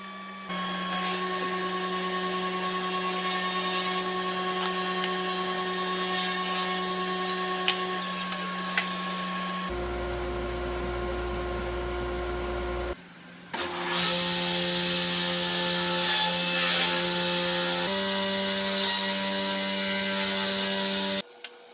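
Table saw cutting wood on a crosscut sled with a clamped stop block, two long steady whining runs of the spinning blade with a quieter pause between them, close and loud.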